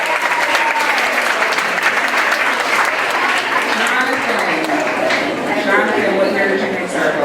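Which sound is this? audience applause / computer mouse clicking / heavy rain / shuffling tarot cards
audience applause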